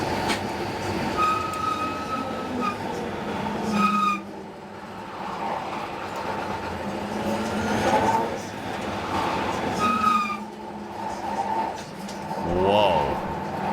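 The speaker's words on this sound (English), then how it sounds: "Judging that the brakes are that loud." A Xiaomi SU7 Ultra electric four-door on a Nürburgring record lap, its brakes squealing in repeated high, ringing bursts over steady road and drive noise, with a voice talking over it.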